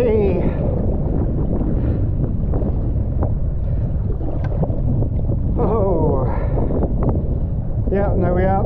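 Kayak paddling on Loch Sween in Scotland, with wind buffeting the microphone and water splashing from paddle strokes, while voices talk and call out over it.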